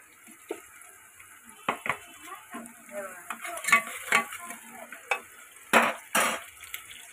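Mutton fat frying with onions in a pan, stirred repeatedly, giving scattered scrapes and knocks over a soft, continuous sizzle.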